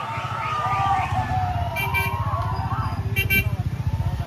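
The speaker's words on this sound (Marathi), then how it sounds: "ट्रॅफिक बघा घाटात." Busy road traffic on a mountain ghat, with a steady rumble of engines and a couple of loud, sustained car horn blasts sounding close by, around the middle and again near the end.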